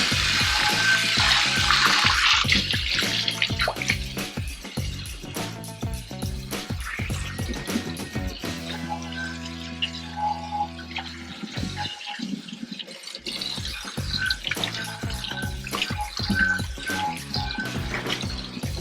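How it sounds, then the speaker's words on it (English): A stainless steel pot is rinsed under a running kitchen tap, with water splashing and gushing steadily, then a brief lull with drips before the flow resumes, close and without talk. "let me rinse that off."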